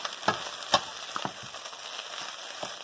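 Irish German hash browning in a hot pan, steady close sizzle and crackle with a couple of sharp scrapes and clinks as it is flipped and stirred.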